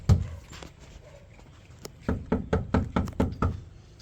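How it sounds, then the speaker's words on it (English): Someone pounds on a house door in a Jamaican drama, a run of about eight heavy, evenly spaced knocks coming close and loud after a quieter stretch. "Who a beat down my door, so?"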